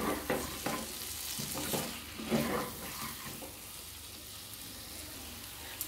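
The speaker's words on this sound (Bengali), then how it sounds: "ভাজা পটলগুলো দিয়ে সাথে ভালো করে মিশিয়ে দেবো।" Fried pointed gourd and potatoes with spices are stirred in a pan, scraping and clattering strokes over a low sizzle that fades toward the end.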